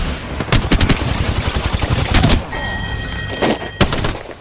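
Gunfire in Apex Legends, with rapid automatic bursts, single heavy shots and sharp close cracks, plus a short electronic tone partway through.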